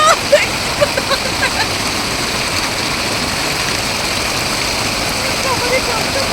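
Cold river water fed by a waterfall rushes and splashes in a constant broadband roar, with faint voices and a few small splashes near the start.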